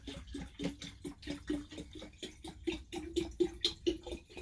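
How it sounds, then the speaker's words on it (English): Fresh water pours into a container in a steady, uneven stream of soft splashes and gurgles, quiet and close, with no talk over it. "That's a long water fill."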